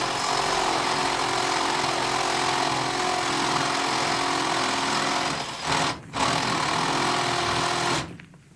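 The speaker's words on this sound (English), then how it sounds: "Back to the drill." A drill runs inside a cave with a loud, continuous rattling drone that cuts out briefly twice, once in a short gap and once to stop near the end.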